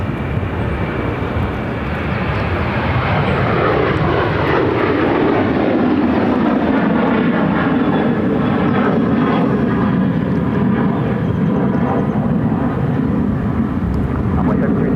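An airliner jet takes off at Phoenix airport with a loud, steady roar. A sweeping whine falls as the aircraft passes close by, then the roar holds for the rest of the clip.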